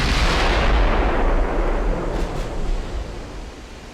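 A battleship's heavy naval gunfire strikes a ship in a naval warfare game, one loud booming blast that rolls into a long rumbling decay, alone with no talk.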